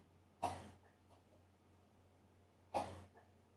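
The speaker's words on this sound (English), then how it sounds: "No, she's coughing." Two sharp, isolated coughs a couple of seconds apart from a woman, with quiet background hum between them.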